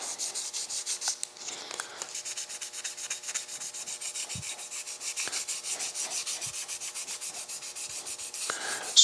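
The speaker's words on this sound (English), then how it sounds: "I should be wearing a mask when I'm sanding this out, but they're just small pieces." Small car body pieces for a custom 1951 Infiniti shoebox bodyswap are sanded by hand with steady, rhythmic rasping strokes, a close scratchy rubbing sound broken by a few light knocks.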